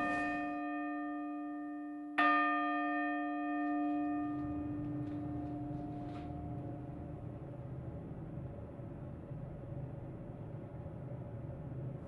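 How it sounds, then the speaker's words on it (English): A single clear strike of a newly tuned church bell rings out with a rich, sustained chord of tones that slowly decays, following a fading earlier tone, over steady background hum. "a really well-tuned bell has all of those notes exactly right"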